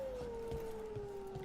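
A long, steady dog howl in Dragon Age: The Veilguard holds one drawn-out tone that slowly falls in pitch, over a faint game-like background hum.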